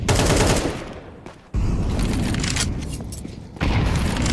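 A grenade explodes during a Counter-Strike match amid heavy bursts of gunfire, with loud booming impacts and rattling shots that surge, fade and surge again.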